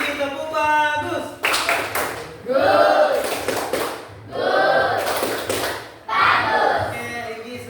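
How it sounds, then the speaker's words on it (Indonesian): Small classroom group clapping for a student named Irgi: a few short bursts of rhythmic claps in unison, close and fairly loud, separated by brief pauses. "Tepuk tangan dulu. Kasih Irgi tepuk bagus."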